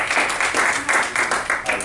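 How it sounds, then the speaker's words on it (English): A lecture audience gives a round of applause for a presenter: a short, dense burst of many hands clapping close by, uneven and lively throughout. "Why don't we give Jessica a great round of applause?"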